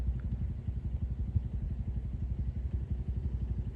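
A Honda Navi, a small 50cc-class motorcycle, putters along outdoors in Florida at low, steady throttle, its engine a continuous low chugging drone with an even pulse throughout and no one talking.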